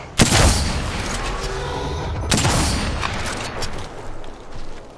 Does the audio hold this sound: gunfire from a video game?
yes